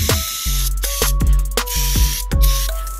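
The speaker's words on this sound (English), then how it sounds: "Use a parts cleaner or brake clean to clean off any residual fluid off the transfer case." Brake cleaner sprayed onto a BMW 325xi E46 transfer case in a series of short, sharp aerosol bursts, several quick hisses in a row, close and loud, with clicks and clatter between them and no talk.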